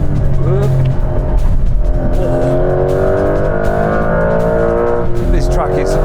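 A new Porsche 911 accelerates hard on a slippery, rain-wet race track, its engine note climbing steadily and loudly through the revs for several seconds while people talk over it inside the car.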